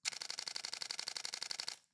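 A Canon EOS R6 Mark III fires its mechanical shutter in a rapid burst, about twenty crisp, evenly spaced clicks close up that stop abruptly after nearly two seconds.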